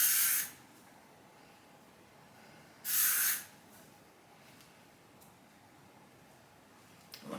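A Bumble and Bumble hair spray hisses onto frizzy hair in two short, close bursts a few seconds apart, with quiet between them and no talk.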